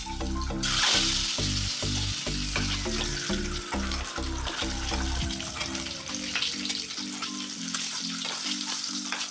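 Salted, chili-dusted fish eggs fry in well-heated oil with a steady, loud, close sizzle that runs throughout under a stepping background music bed.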